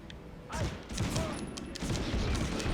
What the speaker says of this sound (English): the SMG is crazy